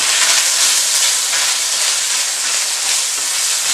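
Sliced onion sautés in a hot pan with oil, garlic and ginger, giving a loud, continuous close-up sizzle and crackle with a steady hiss and no voices.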